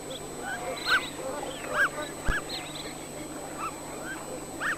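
Several faint, high honking calls repeat at intervals over a soft background hiss, with one brief thump midway.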